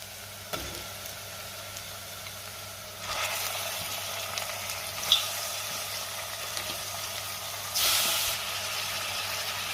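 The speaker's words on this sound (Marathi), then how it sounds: "चिकन मी सुरुवातीचे 5 ते 6 मिनिटं तेलावरती व्यवस्थित परतून घेणार आहे।" Chicken pieces frying in hot oil after ginger-garlic paste goes in, for a spicy chicken sukka, giving a steady soft sizzle with a few louder bursts of hissing and stirring, no voices.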